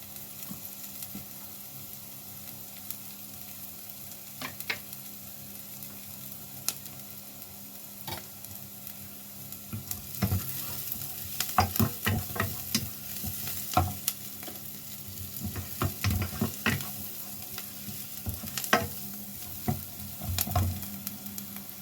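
Garlic sautéing in a pan, a low steady sizzle with scattered scraping clicks of stirring that grow busier partway through; no voices.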